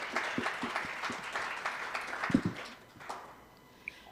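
Applause from a seated audience at a university women's leadership panel event, a steady wash of clapping lasting several seconds and tapering off toward the end, with a few louder individual claps standing out.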